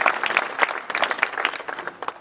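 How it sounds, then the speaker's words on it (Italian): Theatre audience applauding at a stage play, a dense, steady patter of many hands clapping close by for a couple of seconds with no voices over it. "Mi scusi se le ho interrotto l'applauso"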